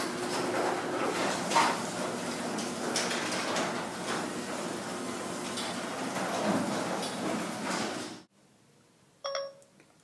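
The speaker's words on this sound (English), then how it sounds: "I am closing your garage door." A long, steady mechanical rumble and rattle of a voice-controlled home garage door closing, ending abruptly in near silence followed by a short electronic tone.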